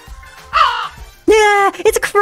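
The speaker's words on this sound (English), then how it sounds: "Yeah, it's a crow!" Two harsh caws from a crow in the video game Feather Family ring out close and loud, the second longer and stronger, with a little talk faintly underneath.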